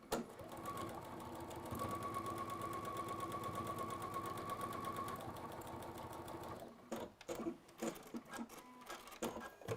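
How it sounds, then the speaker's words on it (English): A sewing machine runs steadily, stitching a quarter-inch seam on flat fabric for about seven seconds, then stops, leaving a few brief clicks and handling noises. "it needs to be flat when you take it to your sewing machine"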